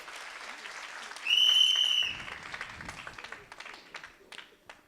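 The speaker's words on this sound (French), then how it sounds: "Clap for the word." A church congregation breaks into applause, warm clapping rising quickly and carrying on for a few seconds before tapering off, with a high sustained tone ringing briefly over the start.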